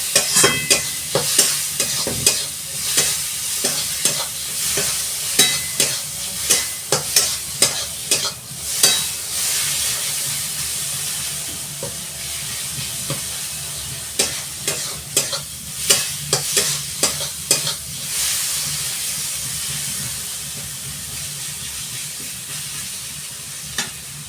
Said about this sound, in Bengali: এবার আমি এটা খুব ভালো করে ভেজে নেব মশলাটাকে।